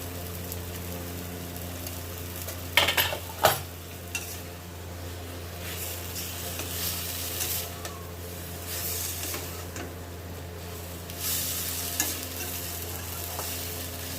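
Fish curry with capsicum, turmeric and chili fries in a pan, giving a continuous hiss with stirring scrapes and a couple of louder clinks of utensil against pan early on, all close and without talk.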